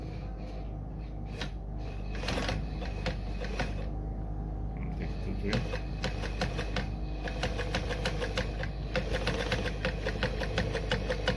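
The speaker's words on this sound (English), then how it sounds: "So when I sew through," A Frister & Rossmann model A-Z sewing machine set to a short stitch length stitches fabric with rapid, rhythmic mechanical clicking and a steady motor hum underneath, close and continuous.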